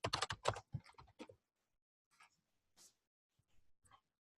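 Short bursts of computer keyboard typing while entering C# code, a quick cluster of close, clattering keystrokes followed by a few sparse, fainter taps, with no talking.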